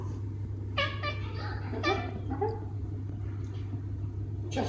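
A Maine Coon cat meows several times in short chirpy calls over a steady low hum, close and fairly soft, with no speech.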